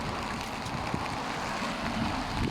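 Steady, heavy typhoon wind roars and buffets continuously, with a rushing broadband noise and no pauses.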